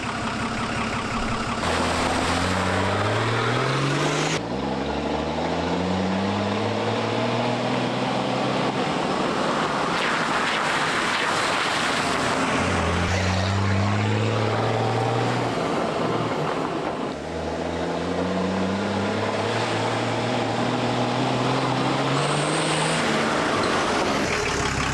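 A Nissan Patrol 4x4 driving along a road, its engine droning steadily with rising and falling tones as it shifts through gears, loud and close with constant road and wind rumble throughout.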